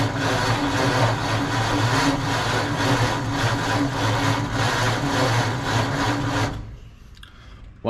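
A 1948 Ford F5 truck engine cranks loudly with a steady, rhythmic churn for about six and a half seconds, then cuts off, trying to start but not catching.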